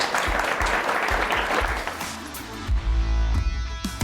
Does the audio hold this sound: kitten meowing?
no